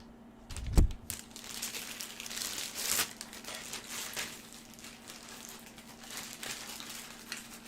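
Plastic packaging crinkles close by as a baseball card is pulled out, with a sharp rustle near the start and then soft, irregular crackling and handling noises.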